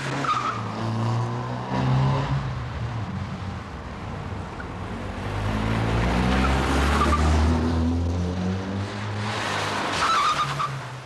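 Two cars speed down Broomfield Avenue near midnight, engines roaring loudly with rough tyre and wind noise throughout, rising and falling as they pass close by.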